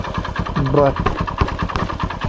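A motorcycle engine runs close by with a steady, pulsing idle-like thrum, and a voice speaks over it briefly.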